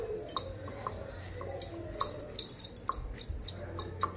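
Onion samosa stuffing is mixed with garam masala in a bowl: faint, irregular clinks and light scrapes of a spoon against the bowl over a soft background, with no voices.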